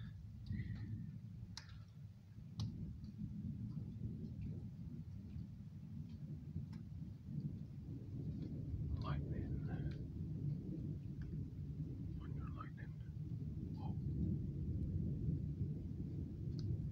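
Thunder rumbling outdoors during a lightning storm, a steady low roar running throughout with faint scattered crackles and ticks on top, no speech.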